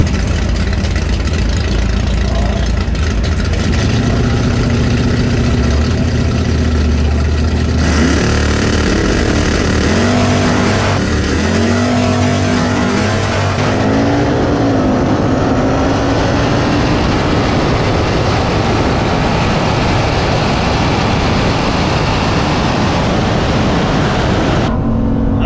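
A Hemi Cuda drag car at a drag race start, its heavy engine idling loudly then revving up as it launches, a steady rumbling roar filling the whole stretch with no talk over it.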